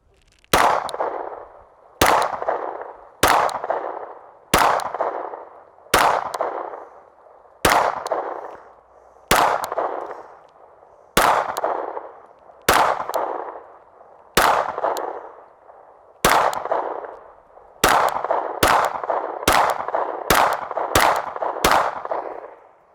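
Glock 47 MOS pistol fired at a quick pace, about fifteen sharp loud reports spaced roughly a second or two apart, the gaps narrowing toward the end, each with a short ringing decay.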